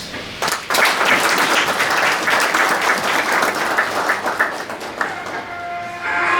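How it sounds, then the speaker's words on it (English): Applause from a business forum audience right after a speaker's closing thanks, a dense, steady wash of many hands clapping that starts abruptly and holds loud for several seconds before thinning slightly at the end. "Please give her another round of applause"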